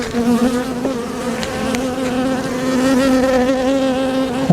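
Honeybees swarm around a lifted hive frame, a dense steady drone of many wings that stays loud and close throughout, with individual bees whining past in brief rising and falling tones.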